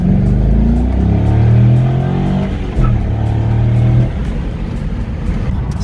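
A Corvette with freshly changed clutch fluid pulls away on a test drive, its engine loud and close, revving up through rising gear pulls, then easing off as the note drops.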